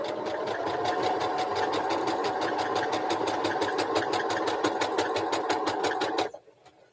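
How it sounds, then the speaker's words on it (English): A sewing machine stitches pieces of a prairie flower quilt with a fast, even mechanical chatter running for about six seconds before stopping abruptly, with no talking. "now I'm sewing on the prairie flower quilt"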